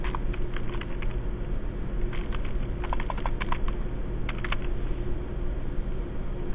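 Someone types a password on a computer keyboard, giving a steady run of close, crisp key clicks over a constant low hum with no talking.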